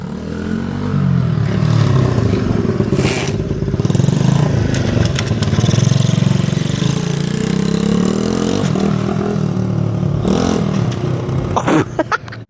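Motorcycle engine running steadily close by, a throaty mid-pitched drone with slight rises and falls in revs and a few sharp clatters near the end.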